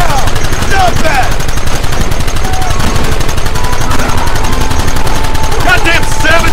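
Rapid, continuous gunfire from a shootout in the Western video game Red Dead Redemption crackles loudly throughout, with game characters shouting over the shots.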